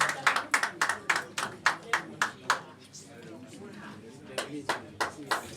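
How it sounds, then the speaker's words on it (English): At a press conference, hands clap in a quick, sharp rhythmic burst, pause, then a few more claps, close and distinct with talking between them. "Round of applause."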